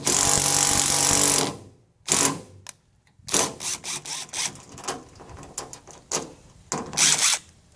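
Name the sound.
impact gun tightening a coupling nut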